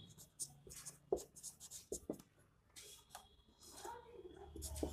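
Handwriting strokes of a pen or marker during a geometry lesson on congruent triangles, scratchy bursts in an irregular rhythm close to the mic, with faint low hum and a little background noise.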